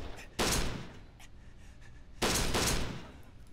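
Two loud bursts of rapid gunfire, nearly two seconds apart, ring out in the video game Kane & Lynch 2. Quieter background game noise sits between the volleys, with no talking.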